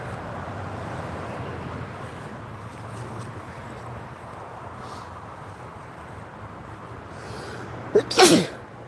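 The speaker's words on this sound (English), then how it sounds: "Touching grass and it's making me sneeze." After a long stretch of steady windy outdoor noise, one sharp, close sneeze bursts out near the end.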